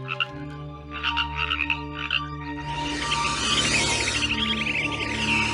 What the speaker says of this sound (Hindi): मेढक डर के मारे घबरा कर चिल्ला रहा है।